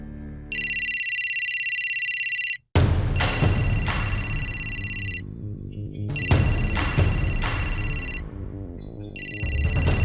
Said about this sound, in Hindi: राबिया का फोन है सर